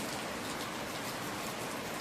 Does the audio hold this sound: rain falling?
yes